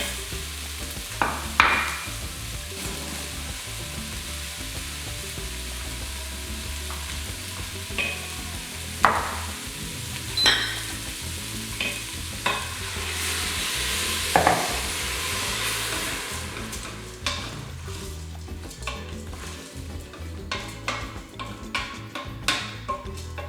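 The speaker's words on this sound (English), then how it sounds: "Stir that all up." Turkey stuffing ingredients, including congrí, stirred in a sizzling pan, with a low frying hiss broken by irregular utensil scrapes and clinks against the pan, close and moderately loud.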